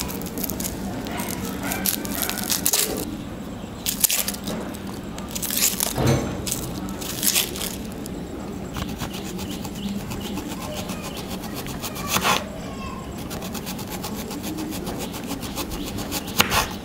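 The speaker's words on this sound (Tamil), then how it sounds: "வெங்காயத்தை வந்து இந்த மாதிரி தோல் சீவிட்டு இந்த மாதிரி சின்ன சின்னதாக லேசாக நம்ம கட் பண்ணி எடுத்துக்கலாம்" Onion being peeled and cut into small pieces by hand for onion bajji, giving close, dry rubbing, scraping and crisp knife crunches in irregular bursts, with a steady low hum underneath and no talking.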